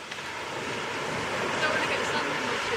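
Ocean surf washing onto a US beach, a steady broadband roar with wind buffeting the microphone throughout, close and fairly loud with no clear breaks between waves.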